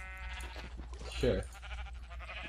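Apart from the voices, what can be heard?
sheep bleating in Minecraft video game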